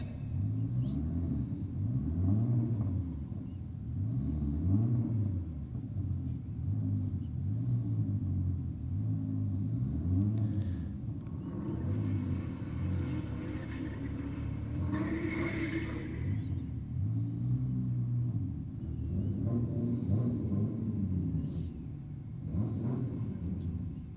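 Holden VF station wagon and Nissan Skyline drag racing at Sydney Dragway: loud, continuous engine rumble with repeated wavering rev surges, close and unbroken, no talk.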